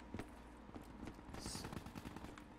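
Video game gunfire: a run of rapid shots and bursts at moderate distance, somewhat muffled and fairly quiet, continuing throughout over a busy background with no talk.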